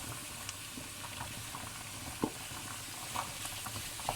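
Minced meat goes into a hot frying pan for a mince curry with potatoes, giving a steady close sizzle and bubbling with a few soft knocks and spatters.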